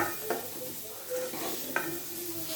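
Food fries in a pan while being stirred, a soft, quiet sizzle broken by brief utensil scrapes and clinks over a few seconds, with no voices.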